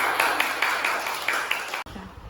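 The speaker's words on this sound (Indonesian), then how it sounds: "tepuk tangan untuk anak kelas 6 yang hebat" A class of sixth-grade children applaud in a dense wash of clapping with a few sharper accented claps, which stops abruptly near the end.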